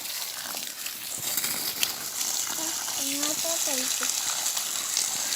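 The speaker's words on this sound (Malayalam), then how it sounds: "അങ്ങനെ നമ്മുടെ തെങ്ങിന് വെള്ളം ഒഴിക്കുകയാണ്" Water is poured onto the base of a small coconut palm in a garden: a steady, close gushing splash that runs throughout, with a short voice heard briefly in the middle.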